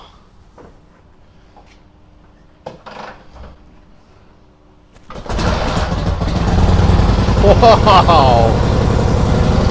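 A 1946 Harley-Davidson FL Knucklehead catches after a kick start and settles into a loud, steady running rumble that fills the rest of the clip, following a few quieter knocks and shuffles. A voice briefly exclaims over it.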